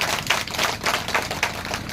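An audience at a political speech claps, a dense, uneven patter of many hands in pulsing waves, loud and continuous.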